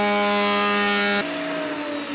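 Electric planer shaving a thin board down from 5 mm to 3.8 mm for a DIY wooden advent calendar, a steady high whining tone that drops in pitch partway through as the blade bites, loud and close with no talk.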